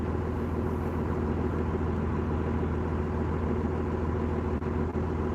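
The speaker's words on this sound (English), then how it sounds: "These trucks make weird noises when you're pulling." A hotshot pickup truck under load while pulling, its engine and exhaust a steady, loud, low droning rumble that holds constant throughout with no talking.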